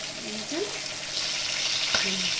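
Chicken roasting in a hot pan gives a steady, fairly close sizzle and frying hiss, with a brief scrape or tap partway through.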